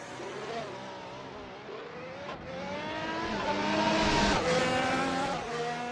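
A Ferrari race car engine in the Assetto Corsa racing game, qualifying at the Italian Grand Prix at Monza, drones steadily at high revs and rises and falls through gear changes, loud and continuous with no talk.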